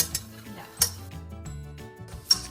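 Metal whisk clinking and scraping against a pan while flour is stirred in for mac and cheese, a steady run of soft clicks with a few sharper taps close by.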